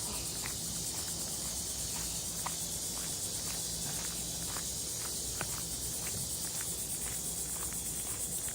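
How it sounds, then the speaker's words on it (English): Cicadas at a campground drone in a steady high, hissing buzz throughout, distant but constant, with soft rhythmic footsteps crunching along beneath it and no talk. "You can hear the cicadas"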